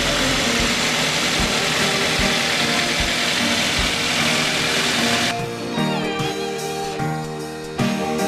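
A 2011 Toyota Avanza Type G engine runs steadily at close range, a dense continuous rumble that shifts in tone near the end as the revs settle.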